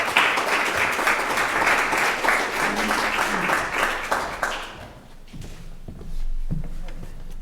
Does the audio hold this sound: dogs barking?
no